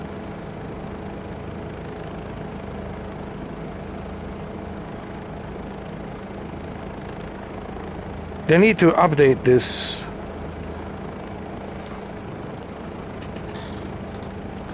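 A Bell 407 helicopter in Microsoft Flight Simulator 2024 holds a steady low rotor and engine drone throughout, while someone speaks briefly partway through.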